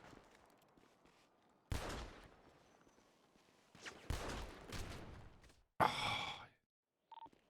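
Colt rifle fire in GTA V roleplay on NoPixel: a few loud bursts of shots and impacts, with quiet gaps between them and a last short sharp report near the end.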